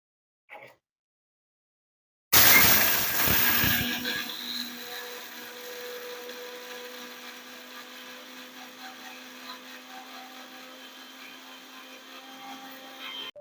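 A kitchen mixer grinder whirs to life after silence, grinding roasted spices and small onions into a powder for okra chutney. The loud initial churn settles into a steady, fainter motor hum that runs to the end.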